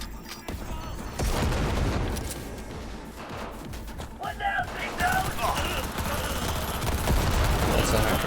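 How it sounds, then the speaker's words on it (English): A grenade blast and bursts of gunfire in a Cyberpunk 2077 firefight, loud and dense throughout, with sharp repeated shots and a heavier crash midway; a voice talks briefly over the action. "Grenade."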